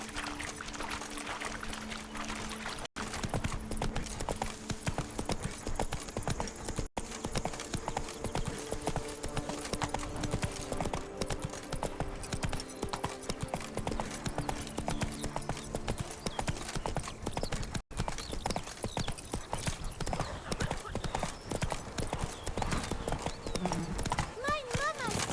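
Roach, the horse in The Witcher 3, trots and gallops with a continuous clip-clop of hooves, joined by an occasional whinny and a voice, all over a layer of game music.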